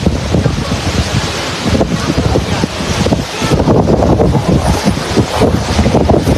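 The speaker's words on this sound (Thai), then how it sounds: "ลมหนักลมแรงนะครับ" Strong, heavy afternoon wind outdoors at an elephant camp in southern Thailand buffets the microphone in a loud, continuous rough roar with gusty surges lasting several seconds.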